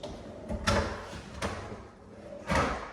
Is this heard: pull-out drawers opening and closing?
yes